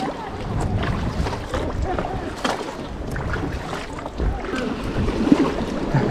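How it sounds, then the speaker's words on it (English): Kayak paddling in the Gulf of Thailand, with irregular paddle splashes and sloshing water under steady wind noise and people talking in the boat. "Kayaking in the Gulf of Thailand."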